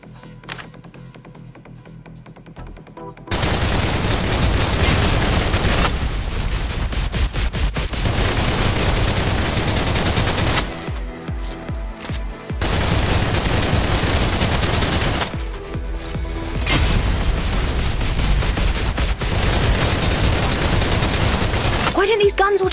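Sustained bursts of automatic gunfire from guns in the shooter game Snowbreak: Containment Zone, loud and dense, with brief gaps between long volleys.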